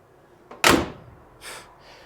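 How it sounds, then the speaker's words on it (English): Doors on a Pontiac Star Chief, a barn-find car left unrun for 42 years, shut with one loud, solid slam, a faint click just before it and a softer latch-like thud trailing after. "Listen to those doors."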